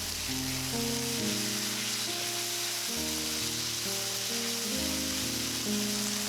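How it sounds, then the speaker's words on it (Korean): Onions stir-fry in a pan with soy sauce, oligosaccharide syrup and vinegar, giving a steady, even sizzle that runs throughout under prominent background music. "여기에 간장 1큰술, 올리고당 1큰술, 식초 1큰술을 넣고 다시 한번 더 볶아주세요."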